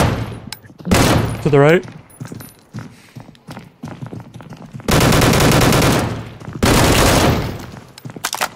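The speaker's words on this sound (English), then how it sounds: "this AK drops him so fast" Bursts of AK rifle gunfire in the video game Deadside, loud dense volleys in two long stretches with a whooshing sweep and scattered thuds between, and someone speaks briefly.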